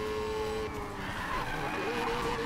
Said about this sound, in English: Ooh, hit the brakes and flew right by.